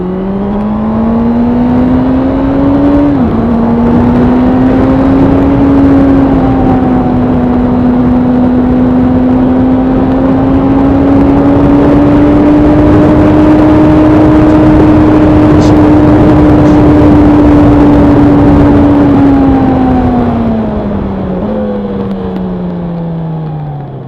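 A Honda CB1000R Black Edition motorcycle engine and exhaust, a loud, close, steady drone with a brief shift early on, holding pitch for most of the run and dropping near the end.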